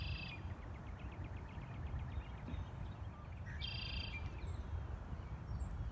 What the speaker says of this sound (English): the call you hear is the red-winged blackbird, who is up in this tree.